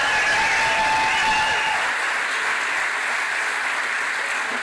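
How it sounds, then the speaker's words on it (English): Crowd applause at a political rally in Brewer for a candidate for governor, loud and sustained clapping from a large audience with some cheering that eases slightly toward the end. "Give a round of applause for Bobby Charles."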